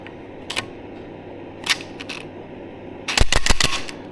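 A cam cap bolt being tightened on a Suzuki DRZ400SM motorcycle engine during a rebuild, with a few sharp metallic clicks and then a quick rapid burst of ratchet clicks, close and without speech.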